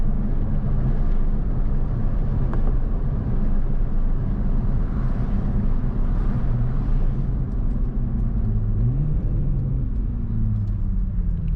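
Steady low engine drone from a 2021 Toyota Supra 3.0 while driving, with rising and falling pitch sweeps near the end that suggest downshifts, continuous and fairly loud under road rumble.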